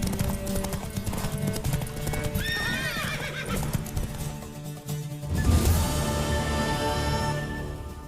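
Horse hooves clip-clop steadily, with a sharp neigh midway, in The Witcher 3: Wild Hunt, against a busy game soundscape of music and ambience, loud and close throughout.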